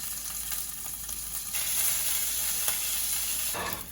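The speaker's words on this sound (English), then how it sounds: "So this is sauteed nicely, it's like golden brown." Green and red chilies sautéing in a hot pan, a steady close sizzle of frying that swells louder midway before a brief stir and fade, with no voices.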